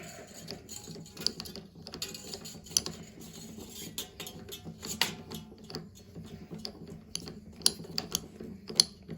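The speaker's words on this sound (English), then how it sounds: "wind it around and over, hold it with your finger, and wind tight" An acoustic guitar string is wound tightly around a tuning peg while restringing, giving quiet, irregular ratchet-like clicks and small mechanical ticks close by, with no talking.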